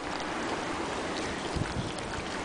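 Strong wind blowing hard outdoors while R-candy cooks, a constant loud rushing roar buffeting the microphone with a few brief low gusts and no talking.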